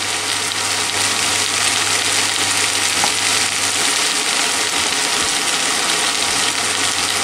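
Zucchini and potatoes fry in a pan with a steady, loud, continuous sizzle that runs the whole time, with a faint low hum beneath and no talking.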